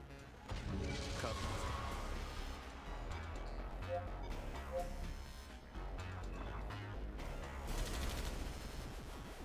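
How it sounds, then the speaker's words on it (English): Machine gun fire in the video game Metal Max Xeno Reborn, with rapid bursts of shots and crashing impacts rolling on almost without pause, alongside heavy battle noise. "it takes a couple of machine rounds to take it out"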